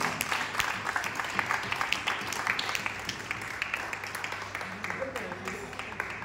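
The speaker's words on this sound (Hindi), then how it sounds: "एक बार जोरदार तालियां" Crowd applause at a Ramlila celebration function, steady loud clapping from many hands that continues throughout, with a voice talking over it.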